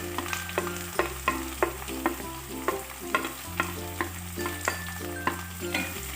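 Carrot, onion and green chilli stirred in a pan, quick rhythmic scraping strokes of a spoon against metal over a constant sizzle and a low steady hum, close and even, without talk.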